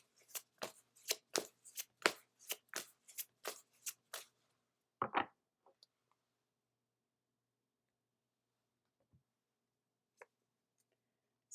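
A deck of Angel Wisdom Tarot cards riffles in a quick burst of crisp, rapid flicks for about four seconds, then a few isolated soft card taps follow in near silence.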